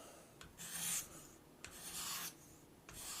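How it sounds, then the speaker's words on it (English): A sharpening stone on a KME system makes light, deliberate strokes along a single bevel broadhead edge: three distinct rasping passes, close and quiet, with short pauses between. "you just do 5, 6, maybe 8 little strokes like this, just to take the burr off"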